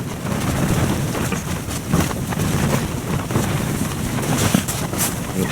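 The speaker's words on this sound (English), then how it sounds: "the wind's picking up from my ride" Strong wind on the way to the South Pole buffets the microphone in loud, gusty bursts, a continuous roaring rush with no voices.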